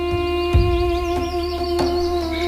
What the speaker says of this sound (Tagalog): huni ng mga ibon na parang masterpiece na musika